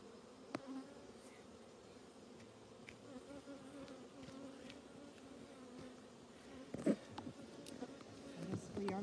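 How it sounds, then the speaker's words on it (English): Bees hum in an open beehive with brood frames, a low continuous close-up buzzing with scattered knocks and faint handling noises. "I don't think we need to bother the poor bees if they're doing their thing."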